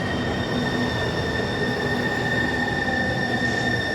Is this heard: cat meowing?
no